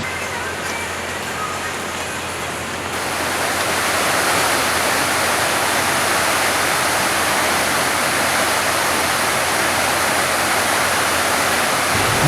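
Waterfall on a mountain forest trail during a June hike at Jeombongsan's Gombaeryeong, a steady broadband rush of falling water that swells a little louder after the first few seconds and then holds constant, with no talk over it.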